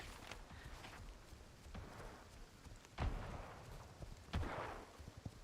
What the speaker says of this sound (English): I still hear the shooting.